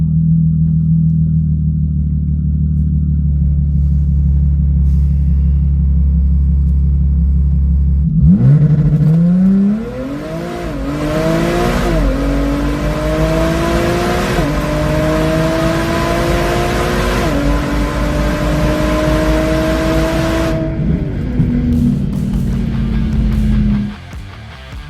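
Audi A6 fitted with an 85mm throttle body launching down a quarter-mile drag strip: a low idle rumble, then a loud engine climbing steadily in pitch through several gear shifts before lifting off near the end.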